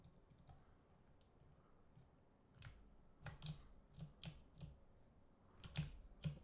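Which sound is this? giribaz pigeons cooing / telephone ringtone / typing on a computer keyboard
typing on a computer keyboard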